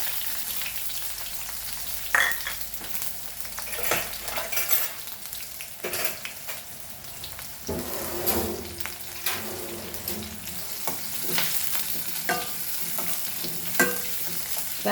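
Chopped onion frying with mustard seeds in a pan for Goan doyi bhaji, a steady sizzle broken by scattered sharp clinks and scrapes of stirring, close and moderately loud with no talk.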